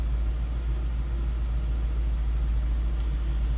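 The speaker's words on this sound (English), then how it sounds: "Sounds as you expect, stock engine sound." A 2002 Ford Thunderbird convertible with its stock engine idling, a steady low rumble that holds an even, unbroken drone throughout at close range, with no one talking.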